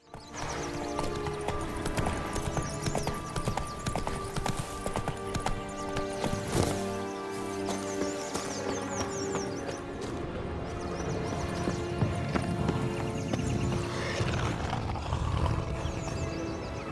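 Hooves clip-clop steadily from the horse Roach in The Witcher 3, joined by whinnying neighs and scattered crashing game effects over a busy background, with no talking.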